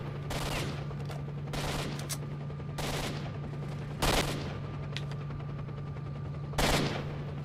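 In the video game STALKER, a scoped rifle fires five sharp shots spaced a second or two apart over a steady low hum of game ambience, with no talk.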